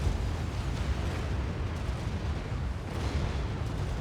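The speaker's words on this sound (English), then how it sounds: "Down goes the TAC missile launcher." A TAC missile launcher being destroyed in Supreme Commander, heard as a dense, rumbling explosion with continuous booming blasts that swell again near the end.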